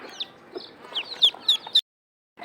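A hen clucks in short, separate bursts, close and clear, then falls quiet before one last brief cluck.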